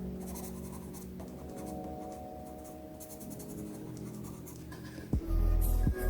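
Continuous scratchy strokes of a colored pencil on paper, close and quiet, with a louder bump near the end.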